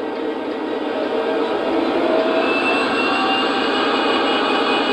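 An SD80MAC diesel-electric locomotive engine held at notch 2, a steady loud roaring drone with a faint whine that stays constant throughout.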